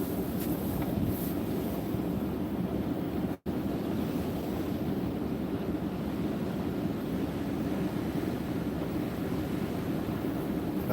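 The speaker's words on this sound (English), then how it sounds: "Nice gust." Steady roaring wind gusts during a Pacific Northwest snowstorm, a loud continuous broadband rush with one brief dropout, no voices.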